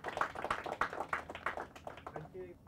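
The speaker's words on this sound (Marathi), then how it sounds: "जोरदार टाळ्या वाजून आम्ही त्यांचं स्वागत करूया." Audience clapping to welcome a school team at a Marathi quiz semi-final, a quick rhythmic burst of claps at moderate distance that tapers off, with faint voices underneath.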